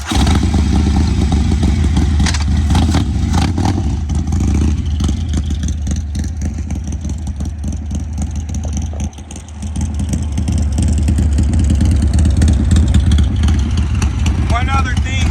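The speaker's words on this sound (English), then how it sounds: "I'm gonna show you guys how to do a burnout and shift gears." A motorcycle engine revving hard and steadily for a burnout, a loud, continuous roar with rattling clatter that dips briefly before surging back up, close by and without talk.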